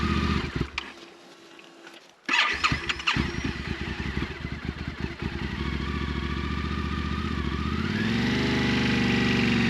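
A Yamaha Ténéré 700 motorcycle engine cranks with a brief clatter, catches and settles into a steady, close idle that rises slightly toward the end, running on its own without talk.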